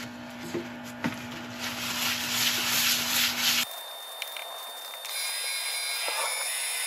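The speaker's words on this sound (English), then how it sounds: "we're going to go on with the abrasive paste and then on with a super fine, making sure that we clean out residue in between" Abrasive paste is rubbed against a spinning woodturning piece, giving a close, steady scratchy rubbing over a lathe hum that cuts off partway, followed by quieter faint rubbing.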